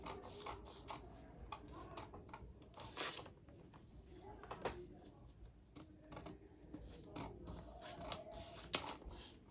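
Scissors cut through a paper drafting block in repeated crisp snips and rustles, close and fairly quiet, with faint talk in the background.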